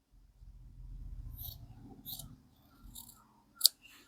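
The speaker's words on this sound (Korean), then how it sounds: "여유분 넣어준 것까지만 가위밥을 넣어줄게요" Scissors snip into the fabric seam allowance of a bustier being draped, giving a few soft, close, crisp cuts spaced unevenly and ending with one sharper snip, with no talking.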